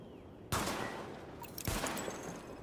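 Sidearm gunfire at targets in The Division video game: two sharp, loud shots about a second apart, each ringing out with a decaying echo tail.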